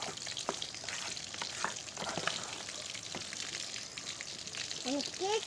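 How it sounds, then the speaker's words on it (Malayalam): Soy sauce going into a pan of frying chicken roast, with a steady close sizzle, scattered spatters and a few stirring clicks throughout, and a short voice-like sound near the end. "2 ടീസ്പൂണാണ് ഞാൻ സോയാ സോസ് ഒഴിച്ചിട്ടുള്ളത്"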